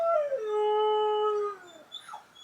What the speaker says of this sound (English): you might hear howling in the background